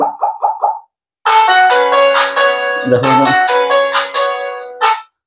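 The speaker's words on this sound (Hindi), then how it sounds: "रिंगटोन आपण बहुत बढ़िया बाजिबो जेमिति देखो" An HMD 130 Music phone plays its ringtone loudly through its built-in speaker, a bright chiming melody of bouncy repeated tones. It starts with a few short blips, pauses briefly, then runs as a continuous tune for about four seconds before cutting off.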